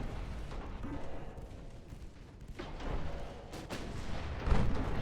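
Naval 8-inch guns fire in the warship game Ultimate Admiral Dreadnoughts, a rumbling series of deep booms and rolling blasts that swells toward the end with a heavier thump.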